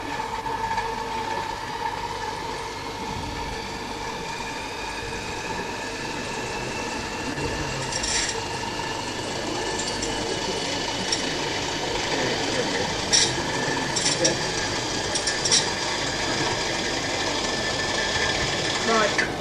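A large gyroscope spun up to about 2,000 rpm in a 1974 lecture demonstration gives a steady whirring hum with faint sustained tones throughout, while people talk over it.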